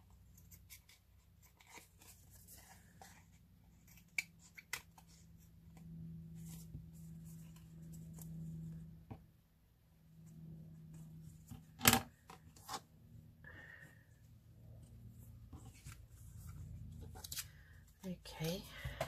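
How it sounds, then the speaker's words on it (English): Scissors snip through paper while crafting pocket tags, giving soft intermittent cuts and rustles close by, with low background hum and quiet handling noises throughout. "And let's cut this one down quickly."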